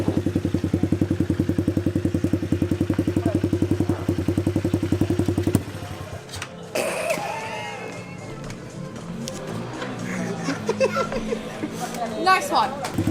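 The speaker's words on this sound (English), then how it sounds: "Watch this, I'm going to do a racing start." A 90cc pit bike revs hard in a steady buzzing drone for several seconds, then cuts off abruptly as it launches away in a racing start, leaving clatter and voices in the background.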